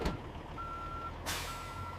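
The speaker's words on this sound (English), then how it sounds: "Delivery truck arriving at McDonald's restaurant." A refrigerated delivery truck carrying frozen fries pulls up to a McDonald's restaurant, its reversing alarm sounding two steady electronic beeps, split by a short burst of air hiss.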